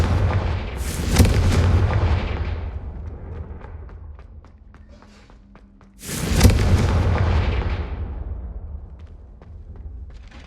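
Two booming blasts from the Confringo explosive spell in the wizarding game Hogwarts Legacy, each a loud, close thunderous burst that rolls off over a couple of seconds, a few seconds apart, with no talk.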